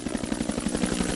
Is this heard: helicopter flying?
yes